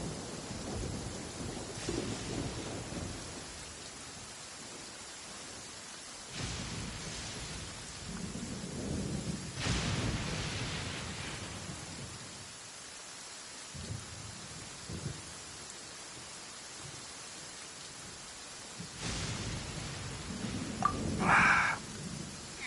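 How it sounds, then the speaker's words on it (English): Thunderstorm in the video game Genshin Impact, with steady rain on surfaces broken by several deep, rumbling thunder rolls and cracks of lightning, some close and loud, spread across the scene with no talking. "they were being torn to shreds by the bolts of lightning"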